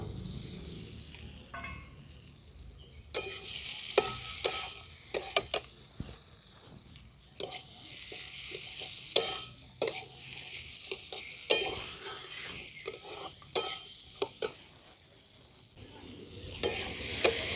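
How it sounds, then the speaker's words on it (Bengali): Fried potatoes and shelled green peas sautéing in a pan for a pea ghugni, with a steady low sizzle and repeated scraping stirs that punctuate the frying throughout. "দেখুন আলু আর মটরশুঁটি আমাদের খুব ভালোভাবে কষানো হয়ে গেছে"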